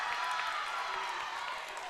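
A crowd at a volleyball game cheers and applauds in a continuous, fairly distant wash of clapping and voices lasting under two seconds.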